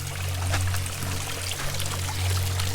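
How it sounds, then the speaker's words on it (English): Stream water pours steadily into a leaky bucket along a hiking trail at Oak Glen Preserve, a continuous close splashing flow with a low gurgle, no voices. "Come down here and you get some water in the bucket. Which leaks like a sieve."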